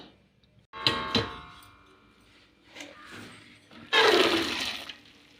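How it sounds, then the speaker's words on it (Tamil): Water pours and splashes into a drain as cooked chana dal is strained, with a metallic clatter early on and a louder gush of draining water near the end. "தண்ணியை வடிச்சிருவோம்"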